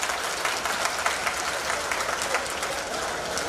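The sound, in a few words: applause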